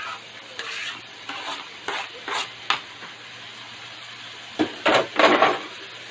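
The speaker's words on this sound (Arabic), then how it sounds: "انا هنزل دلوقتي الخضار اللي معايا قطعت بصل وفلفلات الملونه اللي معايا" Chopped onions and colored bell peppers stirred in a pan of garlic-lemon sauce, a soft frying hiss under a string of scraping spoon strokes that bunch into louder, busier bursts near the end.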